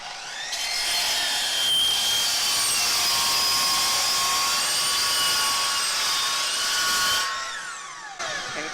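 A compound miter saw cuts through a thick pipe with a loud, sustained high-pitched whine and grinding that holds steady for several seconds, then stops as the blade winds down.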